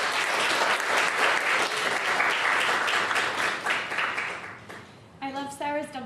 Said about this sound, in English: So if we can all give Helen a big round of applause.